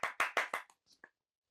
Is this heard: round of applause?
yes